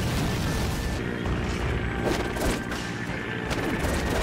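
Bombs go off in a Legend of Korra battle episode as a dense, loud barrage of booms and crackling blasts, layered under music and the show's dialogue.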